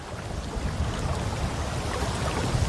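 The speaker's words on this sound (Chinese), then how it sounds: "你静静的，你听一下这水声多舒服" Soft water laps and washes beside a boat outdoors, a steady, gentle rush mixed with light wind and no voices.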